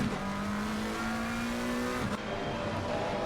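Race car engines drone steadily in a sim racing game, one car's pitch climbing through a gear before a sharp shift around two seconds in, with a faint tire squeal beneath and other engines layered close behind.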